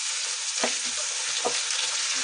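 Green chilies hit hot oil with browned garlic for a Marwari garlic and red chili chutney, making a loud, steady sizzle close up, with a couple of brief stirring scrapes.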